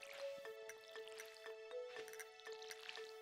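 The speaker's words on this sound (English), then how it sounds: "Water the damn plants." Watering plants in a farming video game, a rapid series of small splashing drips in regular bursts, quiet and close.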